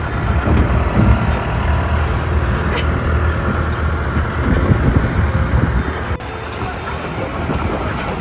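Tourist train ride around the farms at a tulip garden in the USA, a steady rumbling vehicle and wind noise running throughout, with people talking over it.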